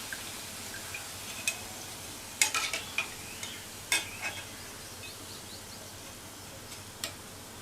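Onion pakoda frying in hot oil, a soft continuous sizzle under occasional sharp clinks and scrapes as a utensil stirs and turns the fritters in the pan.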